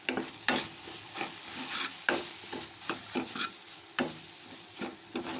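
Vadacurry masala sautéed in oil in a pan, quiet sizzling broken by repeated scraping strokes of a spatula at an uneven rhythm, close and fairly soft, with no voices.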